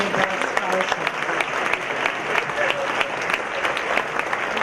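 Honors night audience applauding a scholarship winner, dense sustained clapping from a crowd in a school hall, continuous and fairly loud throughout with sharp individual claps standing out.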